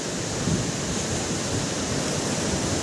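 Rough, stormy sea surf crashing onto a beach in Real, Quezon, a steady loud roar of breaking waves with wind noise and no voices.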